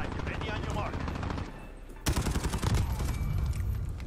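PP19 Bizon submachine gun fire in a Modern Warfare match crackles in rapid automatic bursts, loud and close, with a brief lull before another sustained burst while a player talks excitedly.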